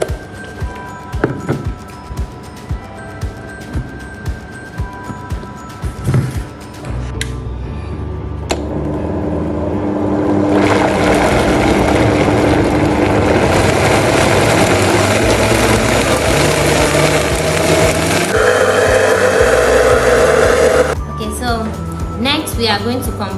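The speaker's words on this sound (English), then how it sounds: "After this, the next thing we are going to be doing is to blend this together into" A blender purees carrots for carrot cake, starting after some clatter and rising into a loud, steady whirring roar that shifts pitch, then cuts off, with a voice speaking over parts of it.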